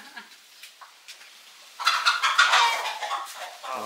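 Chickens and roosters in a village coop with a turkey nearby: soft scattered clucks at first, then a burst of loud, close, overlapping clucking and cackling.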